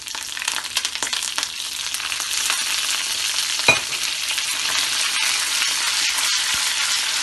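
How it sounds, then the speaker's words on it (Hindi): Red chili, cumin and curry leaves fry in hot oil with a steady, loud sizzle and crackle that holds throughout, with a brief sharper pop near the middle and no talking. "अब हम इसमें लाल मिर्च और ज़ीरा डालेंगे, कड़ी पत्ता डालेंगे।"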